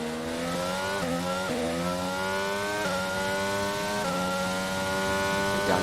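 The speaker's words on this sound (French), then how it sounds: "La réaccélération de la Red Bull, attention" Formula 1 Red Bull car engine in F1 22 at the Azerbaijan circuit, a loud high-pitched whine climbing steadily through several quick gear shifts, continuous with no talk.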